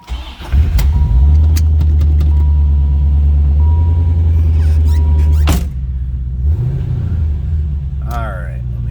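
A 1988 Chevrolet Corvette C4 coupe cranks briefly and starts, then settles into a loud, steady idle with a low rumbling tone that eases slightly after a few seconds, recorded up close.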